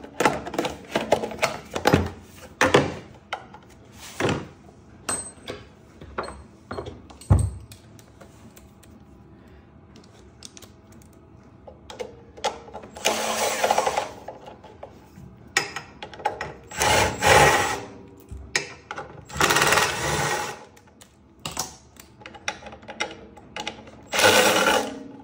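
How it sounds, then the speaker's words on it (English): An air cleaner assembly comes off a small Honda engine, giving irregular bursts of scraping, rattling and handling noises with quieter pauses between them. "On this one here, I'm gonna remove the air cleaner assembly."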